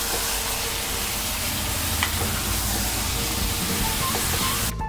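Onions fry with turmeric and chili powder in an Andhra-style kitchen, giving a constant, dense sizzle of hot oil with light stirring scrapes, close and steady with no talking.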